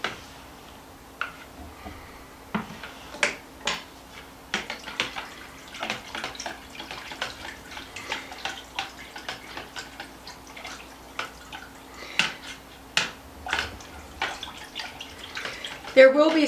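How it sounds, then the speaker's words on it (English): Cream of chicken soup mixture whisked in a pot for chicken and rice, a quick rhythmic series of clicking, tapping strokes close by, irregular and fairly light. "now we're going to whisk this up really good."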